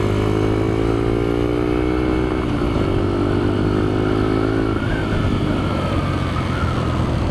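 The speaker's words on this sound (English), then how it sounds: "This motor's taking a little while to warm up here." Kayo MR125 motorcycle engine warming up at a kart track, a steady loud idle with surging harmonic drone that shifts pitch a few times, rising slightly near the end, no talk over it.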